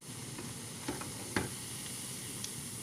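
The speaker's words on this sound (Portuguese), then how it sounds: "Vou ir fritando aos poucos até dourar" Salgados frying in hot oil make a steady, close sizzle with a couple of brief louder pops and crackles, and no voices over it.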